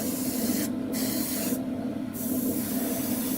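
Aerosol paint sprayed as a wet final coat onto a 1/48 scale F-14D Tomcat model cockpit, a steady close hiss broken by two short pauses, with no talking.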